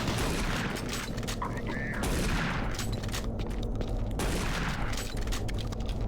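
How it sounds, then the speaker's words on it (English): Shotgun fire in the PC shooter Doom 3 comes in a dense, rapid barrage of blasts that runs loud and nearly continuous for the whole stretch. "How do you get your shotgun to fire so fucking fast?"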